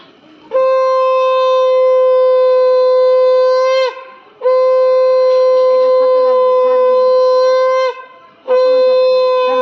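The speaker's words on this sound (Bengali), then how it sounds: "শাঁখ বাজা।" A conch shell blown at a Hindu wedding turmeric ceremony: three long, loud, steady drone-like blasts, each held for several seconds with brief breaths between them, close by and dominating the scene.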